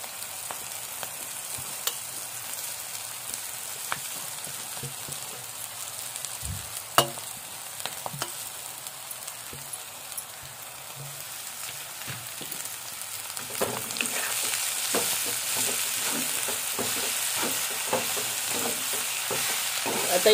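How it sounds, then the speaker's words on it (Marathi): Takla wild greens stir-fried in a pan, with a steady low sizzle and repeated scraping and tapping of a spatula stirring the leaves, close and continuous with no talk. "आता ही परतून घेऊया व्यवस्थित."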